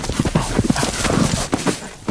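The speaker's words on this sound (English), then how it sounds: "if you're looking to raise Cadillac ranch horses, that is your stud" A ranch stud horse moves with uneven hoof clops close by, loud and irregular, with no clear whinny standing out.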